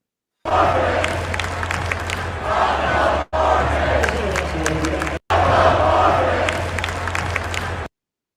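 Arizona basketball fans in an arena chanting in unison, loud rhythmic crowd shouting in bursts with brief cut gaps between segments.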